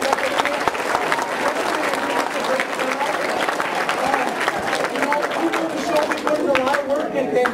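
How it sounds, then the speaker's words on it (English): A school audience at a middle school variety show applauds: dense, sustained clapping from a crowd filling the room, with chatter and cheering mixed in, continuous throughout. "So let's give ourselves a round of applause for being so respectful."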